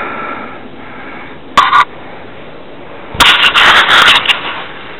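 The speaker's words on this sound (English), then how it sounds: "You hear all them gunshots? That is not firecrackers" Two bursts of sharp gunshots on New Year's Eve night in Flint, a short cluster followed by a longer rapid volley, fairly distant with background hiss.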